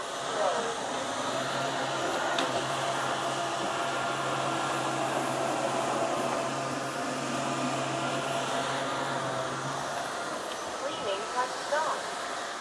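A Roborock F25 RT wet-dry floor cleaner runs steadily while cleaning up spilled milk on a floor near an edge, producing a continuous loud motor whir and hiss with a low hum throughout.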